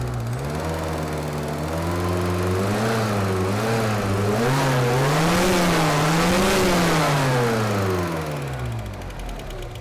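A Volkswagen G60 engine running roughly with misfires, its note lurching up and down in uneven surges rather than holding a steady idle, loud and close with no one talking over it.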